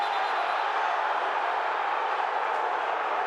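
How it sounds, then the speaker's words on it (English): Football stadium crowd at an XFL game between the Seattle Sea Dragons and St. Louis BattleHawks, a loud, sustained roar of many voices reacting to a punt return, steady and broad with no distinct talk on top. "And you're hearing the crowd react."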